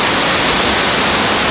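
Bushkill Falls in Pennsylvania gives off a steady, full rushing roar of falling water, continuous and fairly loud with no pauses and no voices.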